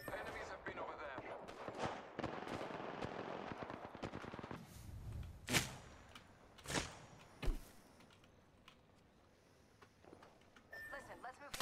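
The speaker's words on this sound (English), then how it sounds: "I'm taking fire." Gunfire in Apex Legends: rapid automatic bursts crackle for the first few seconds, then a few separate sharp shots ring out, moderately loud, with in-game character voice callouts around them.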